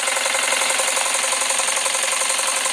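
A custom Jensen 20G model steam engine runs on live steam, giving a steady, dense hissing and rapid mechanical chuffing that stays loud and constant throughout, with no voices.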